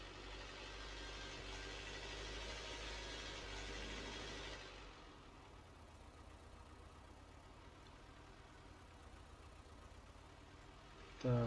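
A tractor engine in the video game Farming Simulator 19 drones steadily, a low continuous hum that drops to a quieter idle partway through, ending with a brief louder burst.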